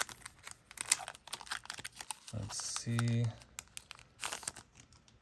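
Foil of a Scarlet and Violet Destined Rivals Pokemon card pack crinkles and crunches as it is cut open with scissors, close and sharp, with brief speech over the handling noise.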